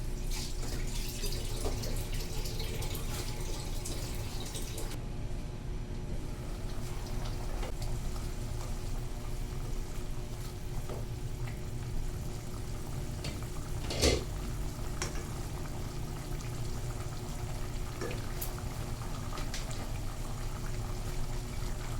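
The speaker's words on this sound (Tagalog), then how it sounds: "Mga 3 minutes na may taklob, kukuluan." Squid in coconut milk simmers in a covered pot for adobong pusit, giving a steady, even bubbling hiss that runs unbroken with one faint clink partway through.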